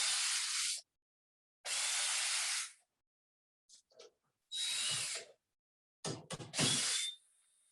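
A power drill or driver backs the screws out of the lower panel on an Allied air handler, several loud, close bursts of whirring broken by silent gaps and a few faint metallic clicks, with no talking.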